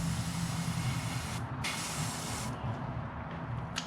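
An airbrush sprays paint onto a tiny soft-plastic crawfish fishing bait, a steady close hiss running continuously with short bursts of stronger spray.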